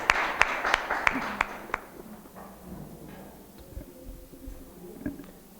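Audience applause at a literary lecture event in Córdoba, sharp claps at first that quickly thin out and fade to scattered rustling in the hall.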